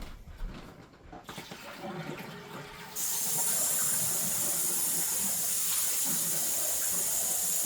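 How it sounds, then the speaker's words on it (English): Tap water runs into a bowl being rinsed of royal icing frosting while decorating Halloween cookies; after quieter handling noises the flow starts abruptly and continues as a loud, steady hiss to the end. "let me clean this bowl with this water"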